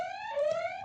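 A quiz-show buzzer at a trivia night, one sustained electronic tone lasting under a second, loud and alone.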